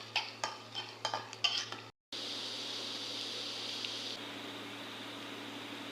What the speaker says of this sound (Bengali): কড়াইতে পেঁয়াজটা দিয়ে দিয়েছি, এখন পেঁয়াজটা হালকা বাদামি করে ভেজে নিব।